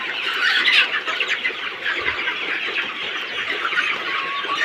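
A flock of Sonali super hybrid chickens in a curtained shed clucks and chatters excitedly while waiting for delayed feed, a dense, continuous close-up din of overlapping calls with no talking.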